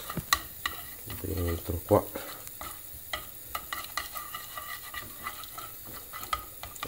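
A spoon stirs ricotta with a little pasta cooking water in a pan, giving repeated soft scraping and clinking strokes with a faint wet sizzle. A brief word is spoken over it.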